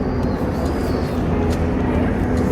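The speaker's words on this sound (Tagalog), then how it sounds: "May aeroplano." An airplane flies overhead, a broad, steady engine roar that stays loud and even throughout.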